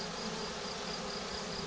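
Swarm of honeybees being swept with a hand brush, a dense continuous buzzing hum, close and steady throughout with no talk.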